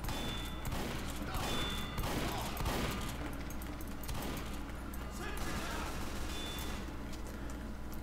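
Mini sentry gun firing nonstop in Team Fortress 2, a dense, steady rattle of rapid shots amid the clatter of a busy firefight, loud and close throughout.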